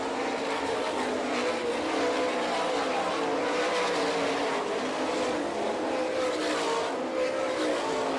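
Sprint race cars roaring around a dirt oval, a dense, continuous engine drone with cars drifting high through lap traffic, steady and loud throughout with no talk.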